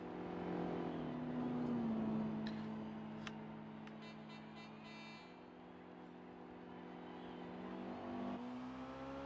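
Car engine in Gran Turismo 4 revving and holding a steady drone, fairly quiet and continuous, with the pitch rising and dipping a few times and no voice over it.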